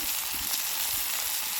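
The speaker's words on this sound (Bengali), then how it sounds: "দেখুন মশলাটা ভালোভাবে কষানো হয়ে গেছে, তেল ছেড়ে দিয়েছে।" Spice paste of chopped tomato, turmeric and cumin powder frying in oil for a pointed gourd curry gives a steady, close, even sizzle that crackles throughout, with no voices.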